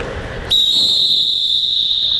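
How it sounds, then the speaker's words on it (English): A sharp, piercing whistle blast starts abruptly and holds steady and loud for nearly two seconds after a brief stretch of background noise. "everyone blow your whistle"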